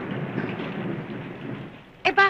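Heavy rain mixed with low rumbling thunder forms a dense, loud, steady roar throughout, and a voice cuts in briefly at the end.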